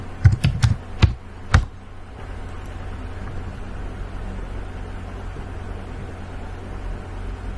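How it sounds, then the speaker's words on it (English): A handful of quick, close keystrokes on a computer keyboard enter a web search, then give way to a steady low hum of room noise. "I could come here and type maybe fashion documentary"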